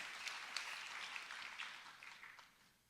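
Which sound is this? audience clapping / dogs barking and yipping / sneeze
audience clapping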